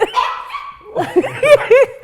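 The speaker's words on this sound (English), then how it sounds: "We have a friend in the room, which is a Prof's dog." A dog in a room where an interview is being recorded gives a series of short barks, yips and whimpers, close and fairly loud, with several quick bursts toward the end.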